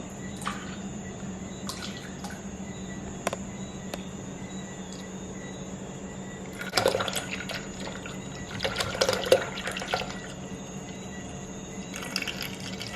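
Chayote juice trickles and splashes softly in bursts as it is poured, with quiet drips between pours, close by and fairly faint, no talking.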